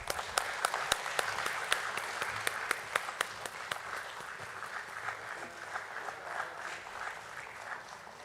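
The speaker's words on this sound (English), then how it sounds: "Let the claps be on." Applause at the Muthoot Microfin Limited listing ceremony at BSE: sustained, faint crowd clapping with sharper individual claps standing out early on, then a steady patter that fades gradually.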